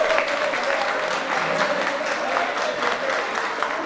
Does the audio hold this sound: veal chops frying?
no